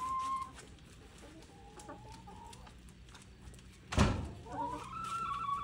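Farmyard chickens cluck softly and intermittently in the open air while a Belgian shepherd dog watches over them, with a brief louder burst and faint voices in the background.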